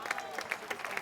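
An outdoor crowd in a town square applauds, a dense patter of clapping that pulses for about a second at moderate distance.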